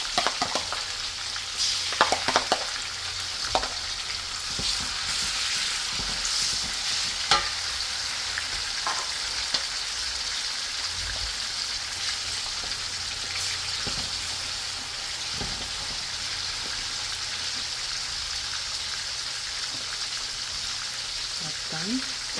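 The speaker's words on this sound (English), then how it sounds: "Alright, just go ahead and fry the onions. Add my garlic and ginger." Onions sizzle in hot oil with garlic and ginger for Nigerian jollof rice, a steady bright frying hiss running throughout with occasional stirring scrapes and clatters near the start.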